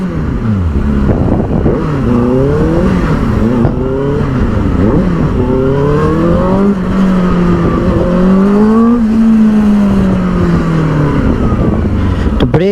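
A Benelli 600i superbike engine revs loudly and steadily, its pitch rising and falling through several throttle blips with no talk over it.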